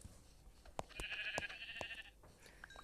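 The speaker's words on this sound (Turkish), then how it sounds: "Aşağıda koyun var." Minecraft sheep bleating in a video game, a sustained nasal baa of about a second, with sharp clicks from block or footstep sounds before, during and after it.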